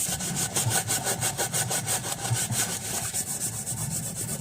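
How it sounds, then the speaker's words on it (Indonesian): Crust is scrubbed away in fast, regular back-and-forth strokes, a loud rasping rhythm close up and steady throughout with no pause. "Lalu kita gosok."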